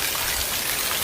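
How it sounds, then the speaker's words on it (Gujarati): Heavy rain pours down after days of hot weather, a dense, steady rushing hiss that fills the whole moment without a break or any voices. "આમ જોઈ શકો વરસાદ એટલો જબરદસ્ત પડી ગયો"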